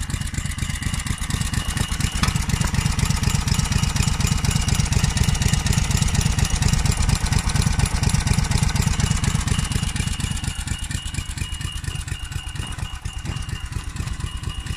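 A Balcar machine's Briggs & Stratton Quantum I/C 5.5 hp engine idles steadily up close, its rapid even putter running throughout with a slight dip in loudness near the end.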